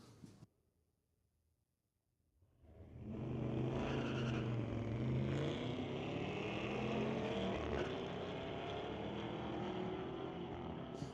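A drag race car with a 6.2-liter Cadillac engine thunders into life at a street-legal strip after a brief quiet, its loud, sustained roar climbing in pitch as it accelerates away.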